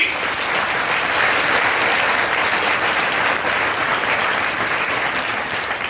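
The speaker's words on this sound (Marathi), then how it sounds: "सर तुम्ही पण टाळ्या वाजवा" An audience at a school one-act play claps in loud, dense, sustained applause that runs steadily from start to finish without a break.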